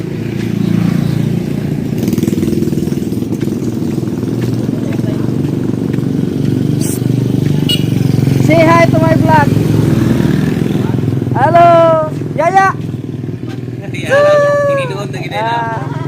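A motorcycle engine runs at a steady idle throughout on a rural farm, a continuous close rumble. Brief chirpy tonal calls and faint voices rise over it in the second half.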